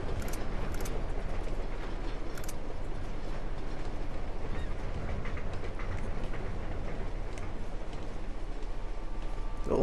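Continuous rolling rumble of a moving train in the PS4 game Uncharted 2: Among Thieves, with dense rattle and occasional faint clicks over a steady low roar, close and even from start to finish.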